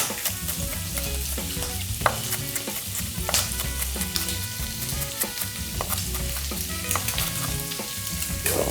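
Onions and bacon stir-fry together in a pan, a continuous sizzle with rhythmic scraping and clattering of the utensil against the pan, close and unbroken by speech.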